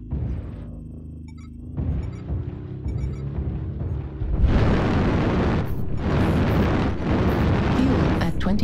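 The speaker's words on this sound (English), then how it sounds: "Artillery strike online" Artillery strike in a video game: after a quieter stretch of engine-like drone and faint game voices, a heavy eruption of booming explosions hits midway and continues as loud, dense rumbling blasts.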